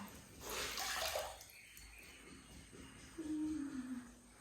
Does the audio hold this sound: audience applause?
no